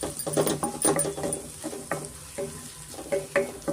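Egg rice ingredients fry in a pan over a medium flame with a gentle sizzle. Rhythmic stirring strokes and light scrapes of a utensil repeat about twice a second, close and moderately loud, with no speech.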